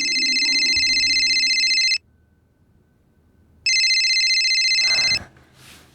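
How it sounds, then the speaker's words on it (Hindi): An electronic telephone ringtone plays in two loud bursts separated by a short silence, then cuts off with a brief rustle. "फोन लगाओ"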